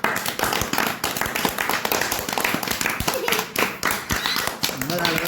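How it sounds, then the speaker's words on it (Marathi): People clapping hands at a haldi ceremony, rhythmic rapid claps close and loud with music in the background and voices talking over the clapping. "वाजवा टाळ्या वाजवा."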